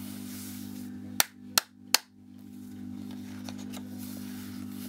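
Three sharp hand claps, evenly spaced about a second apart, ring out near and loud over a steady low hum, with a quiet background afterwards.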